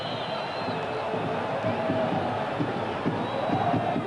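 A football stadium crowd at a Juventus versus Napoli Serie A match keeps up a continuous rumble of jeers and whistles, with a few higher shrill whistles riding over the dense murmur.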